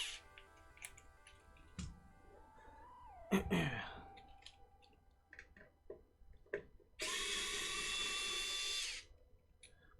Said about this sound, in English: I love this electric screwdriver.